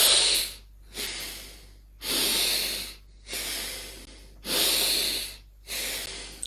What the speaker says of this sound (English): First, 3 breaths, and then we hold 1